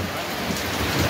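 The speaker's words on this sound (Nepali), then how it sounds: "माथि अब पानी पर्दै छ" Rain pouring down with thunder, a continuous loud wash of dense drops with low rumbling underneath, no voices.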